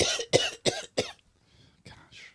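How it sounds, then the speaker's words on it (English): A short run of four loud coughs close by, evenly spaced, followed by quieter breathy throat noises and a faint rustle. "You don't cough on camera."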